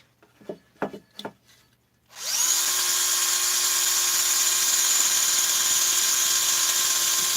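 Scotch-Brite abrasive pad spun on a power tool against a powder-coated Stihl 650/660 chainsaw crankcase, a steady loud whirring grind after a few brief scrapes and taps at the start.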